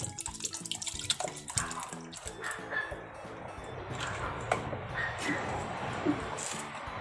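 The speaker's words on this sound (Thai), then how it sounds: "ใช้น้ำมะพร้าวนะคะ ประมาณ 250 ml ค่ะ ชุบเทลงไปเลย" Coconut milk poured into sticky rice pudding, a continuous liquid splash and gurgle up close, with faint background murmur and a few light clinks.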